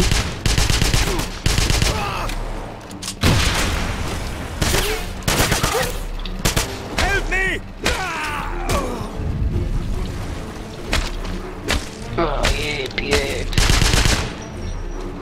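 Rapid bursts of automatic gunfire and scattered shots from the video game Wolfenstein, loud and dense across the whole stretch, mixed with mechanical clanks and booms and no talk over it.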